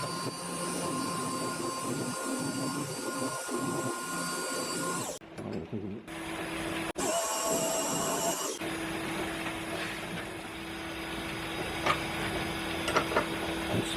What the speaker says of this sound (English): First up, we'll face it off, center drill it, put a live center in it